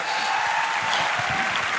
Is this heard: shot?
no